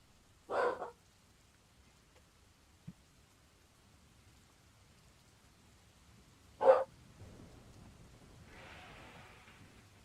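Dog Toffee barks at midnight, two short separate barks about six seconds apart, fairly close, with quiet gaps and a soft hiss of background noise between them.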